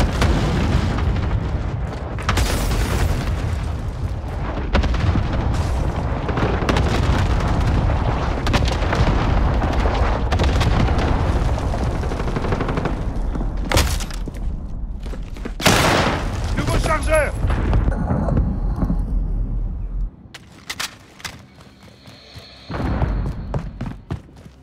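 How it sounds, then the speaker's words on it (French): Cluster strike explosions in Modern Warfare (2019) rumble and boom in a dense, continuous barrage of heavy blasts, with sharper cracks near the end and a brief quiet patch before a final burst, voices mixed in. "Frappe à dispersion envoyée."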